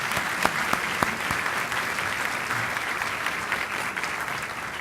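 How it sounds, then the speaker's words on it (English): A crowd at a 2011 opening faculty meeting claps steadily for nearly five seconds, giving a dense and even round of applause with a few sharper individual claps near the start. "Can we give him a round of applause?"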